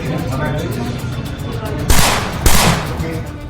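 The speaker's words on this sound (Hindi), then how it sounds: "लूट के बाद एनकाउंटर लाइव। पच्चीस राउंड गोलीबारी।" Gunfire during a live encounter in Kashmir: two loud, sharp shots crack out close together over a continuous noisy background.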